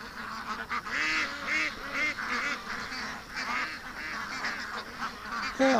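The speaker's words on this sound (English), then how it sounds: "There's the wild duck. It's still here." Repeated nasal honking calls from a wild duck kept among domestic ducks, several clustered quacks one after another at close range over an outdoor background.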